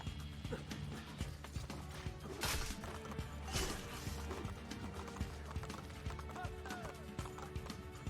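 Horse hooves clip-clopping at a gallop in Assassin's Creed II, rhythmic and continuous, with occasional crashes and game effects mixed in, fairly quiet overall.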